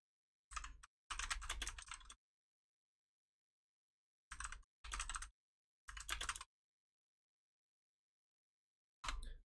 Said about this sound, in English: now that I'm done typing